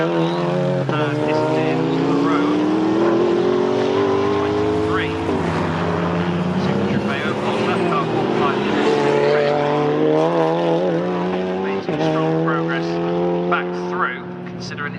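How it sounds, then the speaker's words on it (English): A Vauxhall Astra race car engine grumbles loudly through the British Endurance Championship at Snetterton, sustained engine tones rising and falling across the lap, with a commentator talking continuously over the noise. "The Astra grumbling its way down to turn one"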